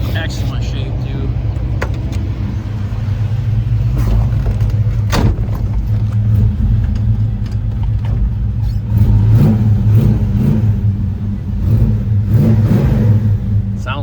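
A 1970 Chevelle's 454 big-block V8 burbles and revs repeatedly up close, deep rumbling swells with sharp blips, while someone talks briefly over it.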